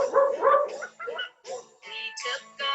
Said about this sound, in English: A doggy joined me for my walk.